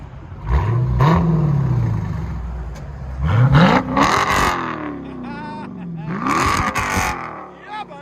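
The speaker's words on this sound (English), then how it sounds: "Park it right there, put it in park, give it gas again." A Dodge Challenger Scat Pack with a 6-speed manual revs hard in bursts, the engine pitch climbing and dropping in loud, close, repeated swells, with someone speaking briefly between revs.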